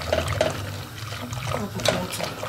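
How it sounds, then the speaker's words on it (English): Water is poured into a cooking pot for a tomato sauce with fish and vegetables, a close, continuous trickling and splashing with uneven surges. "I'm going to add water for it to boil and cook."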